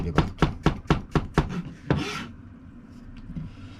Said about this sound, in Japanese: 半月切りにしましたが、まあ厚さだったりとか、こう厚く切りたいときは厚く切ればいいし、で薄く切るときには薄く切ればいいと。